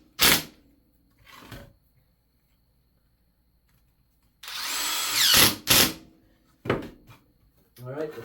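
A power drill drives screws into a scrap-wood bird house, with two short bursts early, then a longer whirring run lasting about a second, followed by more short bursts. Someone speaks between the runs.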